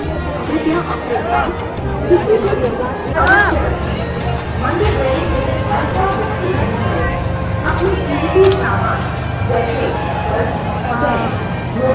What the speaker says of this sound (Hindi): ज़्यादा भीड़ है, बहुत ज़्यादा